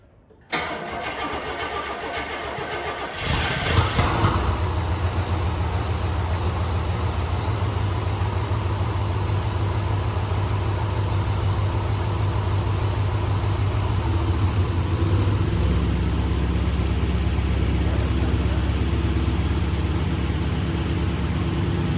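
A 1971 International engine that sat unused for 30 years cranks and catches, then settles into a loud, steady, rough-running idle that continues close by without talk.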